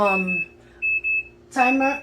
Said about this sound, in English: alarm is ringing